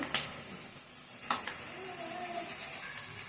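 Green chillies, curry leaves, turmeric and ginger paste fry for a Telangana fish curry, a soft steady sizzle broken by two sharp clinks of a spoon against the pan.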